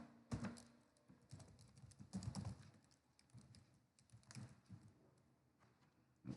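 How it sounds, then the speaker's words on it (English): Quiet bursts of typing on a computer keyboard as a username is entered at a login screen, short clusters of keystrokes separated by brief pauses. "So I'll type in admin."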